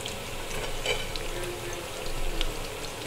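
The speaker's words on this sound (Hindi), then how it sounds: "इसी तरह से हम इसे पलट पलट कर अच्छी तरह से फ्राई कर लेंगे।" Bread pakora fries in oil in a pan, making a soft, steady sizzle that carries on evenly without pause.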